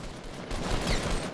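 Rapid bursts of gunfire ring out in a Fortnite match, a short rattling volley that swells louder midway with no one talking over it.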